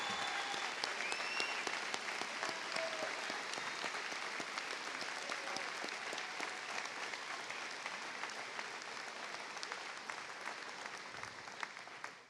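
High school graduation ceremony audience gives a long, steady round of applause, a dense wash of many hands clapping that carries on for over twelve seconds at an even level before tapering off.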